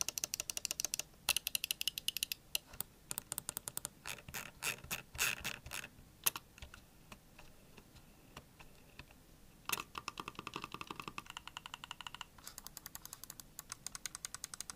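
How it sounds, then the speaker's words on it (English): A Razer Basilisk V3 gaming mouse with optical switches gets its buttons clicked over and over, making sharp, close clicks in fast bursts and steady runs with short pauses between them, and no one speaking. "here's a quick click test for y'all to hear what the clickers sound like, as well as all of the other buttons on the mouse"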